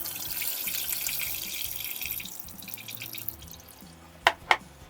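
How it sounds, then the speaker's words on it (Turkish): Bitter soaking water drains off black Kalamata olives, a close, steady trickle and splash of liquid that thins out, then a couple of sharp clinks at the end, with no talking. "Ve yine ben zeytinlerimin bu acı suyunu süzüyorum."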